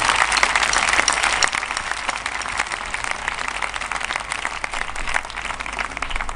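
An audience at an inauguration ceremony applauds with steady, dense clapping throughout, fairly loud and close, with no one speaking over it.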